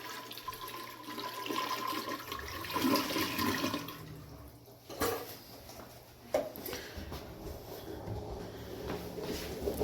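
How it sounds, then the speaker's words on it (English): Toilet in a cabin being flushed with the handle held down to empty the tank, a loud rushing, gurgling swirl of water for several seconds that tapers into quieter trickling and refilling, no talking. "Flush the toilet, hold it down, make sure it's empty."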